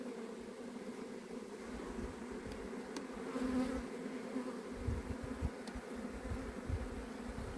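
A dense, steady drone of many honeybees buzzing close up, continuous and moderately loud with no talking.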